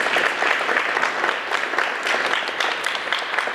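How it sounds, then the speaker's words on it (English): A school assembly audience of students gives itself a round of applause, a loud, sustained crowd clapping that stays dense and even throughout. "So give yourself a round of applause."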